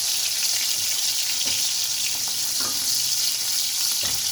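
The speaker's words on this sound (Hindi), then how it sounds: "कढ़ाई को छोड़ देगी तो समझो के नीचे से मछली पक चुकी।" Masala pomfret fish fries in oil in a wok with a steady, bright sizzle throughout, and a few soft scrapes and knocks as the pieces are moved in the pan.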